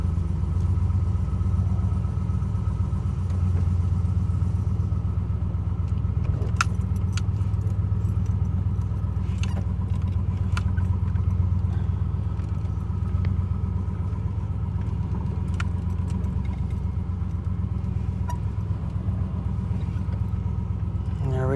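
LS-swapped Oldsmobile Cutlass Supreme V8 idling: a steady, deep, loud engine rumble throughout, close by, with faint metallic clinks and jangles on top.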